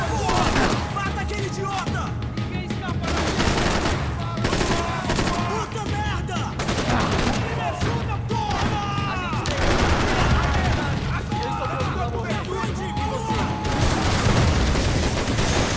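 Loud, sustained gunfire with bursts of machine-gun fire and booming grenade explosions in Max Payne 3, dense and continuous across the whole stretch, with a few voices heard under the firing.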